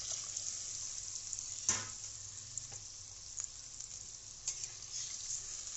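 Koi fish in a hot pan with spiced water poured over it for Bengali tel koi, a quiet simmering sizzle with a couple of sharp clinks of a utensil, heard alone.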